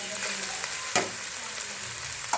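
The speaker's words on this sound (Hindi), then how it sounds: "अब इसे थोड़ी देर भूनेंगे।" Chicken pasta sauce with tomatoes and green chillies frying in a pan, a steady soft sizzle throughout with a couple of brief stirring clinks, close and fairly quiet, no talk.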